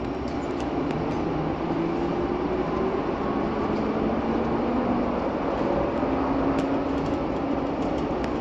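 Steady interior rumble while riding the eastbound Sky Train at Phoenix Sky Harbor Airport, a continuous hum of the automated people mover rolling along its guideway with faint rising motor whines and no speech.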